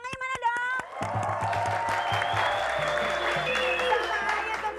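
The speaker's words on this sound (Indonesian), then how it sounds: "Tepuk tangannya mana dong?" Studio audience of an Indonesian TV comedy show bursts into loud, sustained applause with some cheering after a host's opening, keeping up a dense clapping roar for several seconds while music plays underneath.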